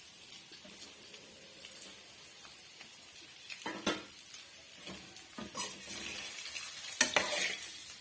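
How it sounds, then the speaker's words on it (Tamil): Egg fry being gently stirred in a pan, with soft scraping strokes and faint sizzling, a few louder clinks and scrapes of the spatula near the end. "ஜென்டலா வந்து கிண்டி கொடுத்துக்குங்க இல்லைன்னா வந்து உடஞ்சி வந்துடும்"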